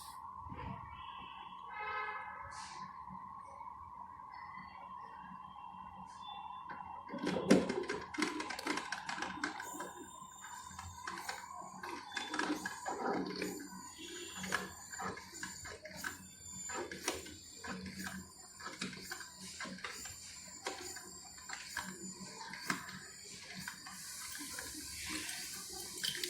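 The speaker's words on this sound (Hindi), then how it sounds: "पानी बॉईल होके फिर यहाँ से इसके अंदर आता है।" A Morphy Richards electric coffee maker heating water for tea: a faint electric hum at first, then bubbling, gurgling and dripping with small clicks as the water boils and flows through, close and moderately quiet.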